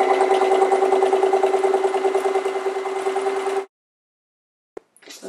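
Sewing machine stitching sweatshirt blanket squares together, a steady mechanical whirr with a rapid stitching rhythm for about three and a half seconds, then stopping into near silence with a few faint handling sounds.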